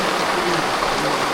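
Monsoon rain in the Konkan countryside, falling steadily as a dense, even hiss and patter on surfaces, continuous and close without pause.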